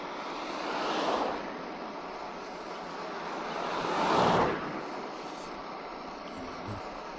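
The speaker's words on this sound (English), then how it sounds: "the noise of maybe the drivetrain a little bit and the tyres on the road." Steady road hiss of Merida Scultura Endurance bicycle tyres rolling on tarmac with a faint drivetrain whir, swelling twice as passing traffic or gusts rise and fade.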